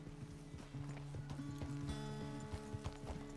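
Horse hooves clop in a steady, quick rhythm in Red Dead Redemption 2, close and clear, with a brief whinny-like tone and game music layered underneath.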